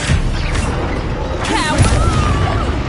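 Spell blasts fired during combat in Hogwarts Legacy: a burst of booming impacts and crackling magical whooshes in quick succession, with a voice calling out over the clashes.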